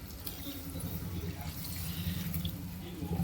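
Water pours into a pot of Pallipalayam-style mutton being cooked, a faint continuous splashing trickle with clattery cooking sounds in the background.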